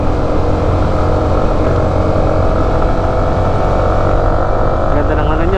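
A Yamaha R15M motorcycle engine drones loud and close on throttle during a mountain road ride, a continuous buzzing engine note with steady rumble and wind, no clear rises or drops in revs.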